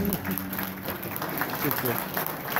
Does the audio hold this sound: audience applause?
yes